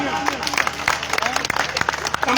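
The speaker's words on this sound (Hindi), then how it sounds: "भाई बबलू के लिए एक बार जोरदार तालियां" Crowd applause at a civic felicitation ceremony held in a market square, a dense burst of clapping heard close with voices and chatter mixed in throughout.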